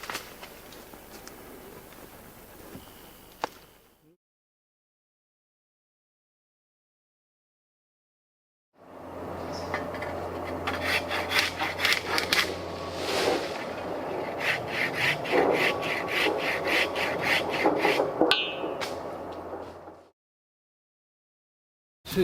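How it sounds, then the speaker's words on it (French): A hand saw cuts a poplar branch stub with repeated rasping back-and-forth strokes, close and fairly loud, in one long run of about eleven seconds after a quieter stretch and a silent gap. "la scie doit bien couper"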